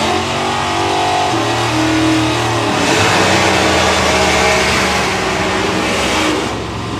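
Mick Allen's new Corvette drag car, fitted with an old 400 Chevy engine, revs hard and continuously at a drag strip, a loud, close, rumbling engine roar that swells and lingers throughout.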